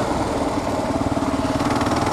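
Kawasaki KLR 650 dual-sport motorcycle, a 650cc single, its engine loud and close with a steady throbbing pulse that builds slightly toward the end, no talk.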